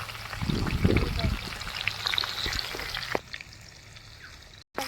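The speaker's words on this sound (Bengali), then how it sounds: "সব মাছগুলো ভেজে নেবো।" Fish frying in oil in a wok outdoors on a windy day, a close crackling sizzle with a burst of bubbling early on, then a quieter hiss, with some voice in the background.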